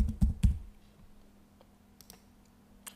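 A few quick clicks of computer keys at the start, an email address and password being typed, followed by scattered faint taps in a quiet room.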